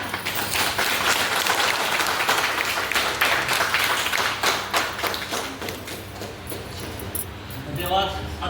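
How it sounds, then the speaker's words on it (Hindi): Meeting audience applauds to welcome a company loan manager, a dense steady wash of clapping hands that carries through, thinning slightly near the end as a voice begins. "उनके स्वागत के लिए मैं आप सभी से जोरदार तालियां चाहूँगी।"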